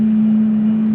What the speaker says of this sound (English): Hecla Aurora is taxiing, but has to give way to others.